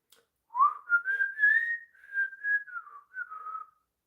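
A person whistles a wandering melody alone, clear and close, with several short phrases separated by brief pauses.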